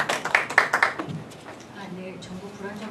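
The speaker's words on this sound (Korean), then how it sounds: "네, 박수로 청하겠습니다." Clapping from the audience at a Korean labour debate comes as a short burst of separate claps. It lasts about a second and then dies down under a low murmur of voices.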